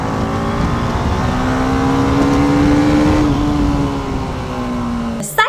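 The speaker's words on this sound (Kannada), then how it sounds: "ಈ ಹೈಯರ್ RPMಗೆ ಗಾಡಿನ ತೊಗೊಂಡು ಹೋಗ್ಬಿಟ್ರೆ ಎಕ್ಸಾಸ್ಟ್ ಸೌಂಡು ಚೇಂಜ್ ಆಗೋಗುತ್ತೆ" A TVS Apache RR310 sports motorcycle's exhaust drones steadily at high RPM, with a sustained engine tone climbing slightly then easing, loud and close, ending with a brief sharp burst.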